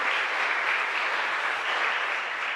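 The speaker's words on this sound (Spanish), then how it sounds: "Fuerte aplauso para el Señor." A church congregation at a parish Mass applauds together, a dense, even wash of many hands clapping that holds steady throughout without voices standing out.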